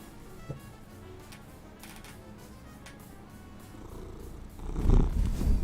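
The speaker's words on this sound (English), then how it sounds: "Enough of the cat on the mic." A cat purrs steadily right against a microphone in a continuous low rumble, then rubs against it, causing louder muffled thumps and scraping near the end.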